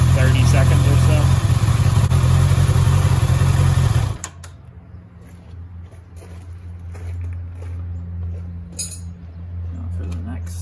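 A Honda CBR650R motorcycle engine running at a steady, loud idle close by, then cutting off abruptly, leaving quiet background hum.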